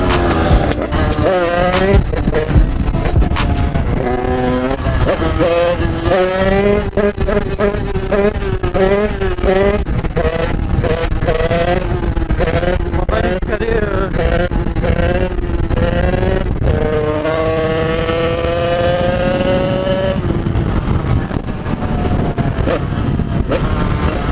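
A 50cc motorcycle engine revs hard in repeated rising and falling whines as the rider pulls a wheelie, loud and close throughout, with a voice briefly heard over it.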